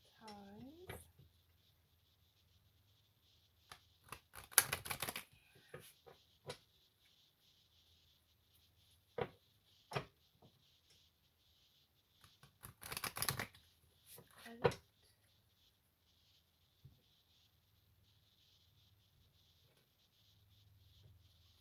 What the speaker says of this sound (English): I'm just going to shuffle a couple times.